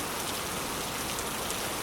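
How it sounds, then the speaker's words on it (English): Wind-driven rain pours on the North Sea coast, a steady, even hiss of drops close by with no talk. "the rain kept pushing in from the side."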